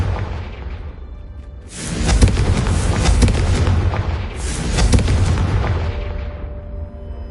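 A Confringo blasting spell detonates in Hogwarts Legacy: two loud, booming explosions with rumbling low end and crackling debris, the first bursting in around two seconds in, the second close behind, each decaying slowly.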